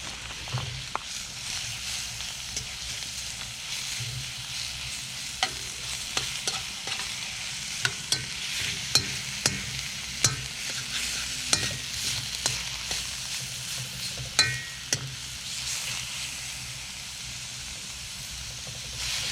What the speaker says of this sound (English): We will be simmering this for about an hour.